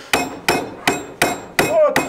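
Nails hammered into wood at a hands-on carpentry activity, six sharp, evenly spaced blows roughly every third of a second, loud and close with no talk.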